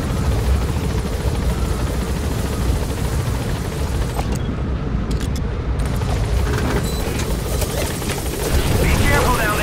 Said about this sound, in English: There's a chopper there.